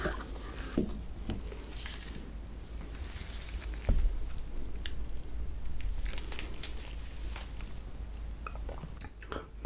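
Close-up chewing and soft biting of chocolate ice cream bars and desserts, with wet squishy mouth sounds and occasional crinkles repeating through a quiet mukbang setting.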